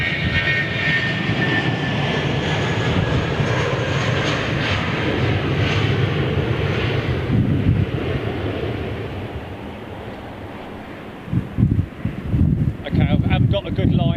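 An arriving aircraft at London Heathrow Airport passes with a loud, steady jet roar that gradually fades after about nine seconds, followed by gusty outdoor rumbling and buffeting.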